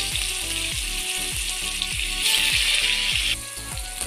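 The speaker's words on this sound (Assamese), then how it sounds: "এতিয়া মই এই কাষৰ তেলবিলাকত কোমোৰাটো দি দিছোঁ" Ash gourd pieces sizzle in hot oil in a pan for a chicken recipe, a steady, close frying hiss that swells briefly, with music playing underneath and no talking.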